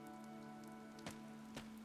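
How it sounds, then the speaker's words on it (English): Soft, steady rainfall patters on surfaces in Fire Emblem: Three Houses, a quiet continuous hiss under a sustained low musical tone, with two faint thumps. "This rain threatens a coming storm."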